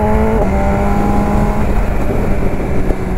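A BMW HP4 S1000RR motorcycle rides along a road, its engine a loud, steady close roar with a shifting tone near the start, heavy wind noise and no voices.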